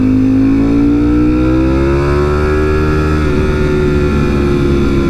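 Ducati motorcycle engine revving loud and close at a drag racing event, a sustained throaty roar with pitch climbing and holding high, no talk over it.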